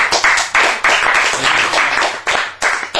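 A studio audience claps at the close of a talk show, a dense burst of hand claps rising and falling in several waves, fairly close and loud.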